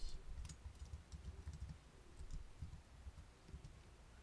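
Quick, irregular keystrokes on a computer keyboard as an email address and password are typed, close and fairly faint, with no voices.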